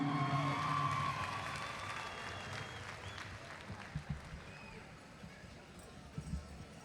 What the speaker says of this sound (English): another big round of applause for this outgoing young lady